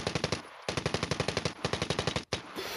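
Rapid automatic gunfire in the mobile shooter Standoff 2, two long bursts of sharp, evenly spaced shots split by a brief gap, loud and close with a short pause near the end.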